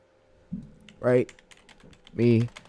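Someone types a prompt on a computer keyboard, producing a quick run of light, close key clicks. Short bursts of a person talking come between the clicks.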